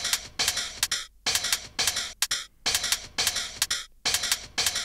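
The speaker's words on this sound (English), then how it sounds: "We have these three different hats playing this rhythm." Three different hi-hats tick and hiss through a busy breakbeat rhythm, with fast bright strokes grouped in repeating bursts separated by brief gaps, steady and moderately quiet with no talking.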